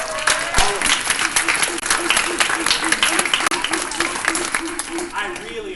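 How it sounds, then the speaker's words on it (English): A school audience claps at a Smithsonian talk by a NASA astronaut, continuous crowd applause with voices and cheering mixed in throughout, moderately loud and close. "Give yourself a round of applause."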